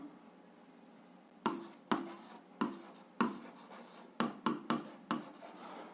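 A pen or pencil writes out a seventh-grade algebra exercise on paper, a series of sharp scratchy strokes arriving in uneven bursts, close and alone without any talking.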